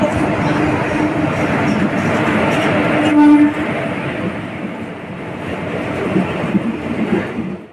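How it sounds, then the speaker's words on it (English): Coromandel Express train pulling into Balasore railway station, a steady loud rumble of wheels and carriages with a brief horn-like tone in the middle, continuous throughout. "Here the Coromandel Express has arrived the Balasore railway station."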